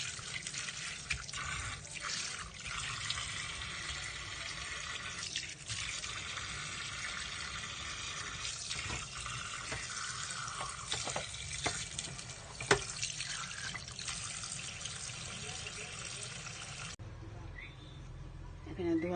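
Tap water running steadily into a sink while rohu fish heads are rinsed, with splashing and handling clatter throughout, a voice speaking faintly beneath.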